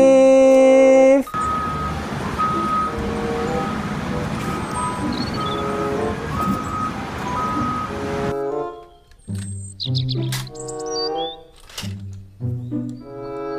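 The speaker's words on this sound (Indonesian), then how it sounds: "forklift." Reversing beeps from a loader forklift at a construction setting, a steady repeating tone over dense engine and machinery noise that cuts off after about eight seconds, followed by scattered clanks and sharp tonal sounds.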